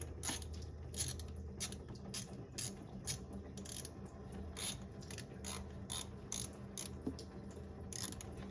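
Hand ratchet clicking in repeated bursts while loosening a bolt on a 2011 Subaru Impreza 2.5i during thermostat replacement, coolant draining; close, moderately loud, over low mechanical background, no talk.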